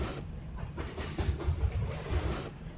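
A train or bus ride in a fantasy role-playing video game carries a steady rumble and hiss with rhythmic clickety-clack wheel beats over rails, continuous and fairly close, without speech.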